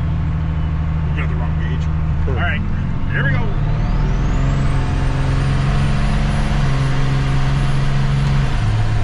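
A single-turbo diesel truck drives under a steady, loud low engine drone. A rising turbo whistle climbs midway and holds to the end, and short tonal chirps sound near the start.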